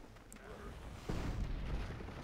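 Cannon artillery fire in the strategy video game Civilization V: a deep, rumbling boom lands about halfway through and rolls on as a low, sustained roar over faint background game sound.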